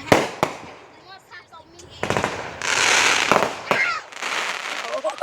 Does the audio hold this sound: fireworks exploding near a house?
yes